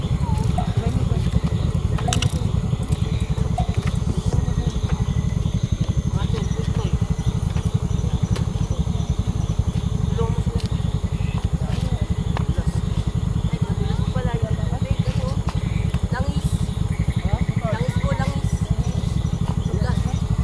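A motorcycle engine idles steadily with a low, continuous rumble, while voices talk nearby over it.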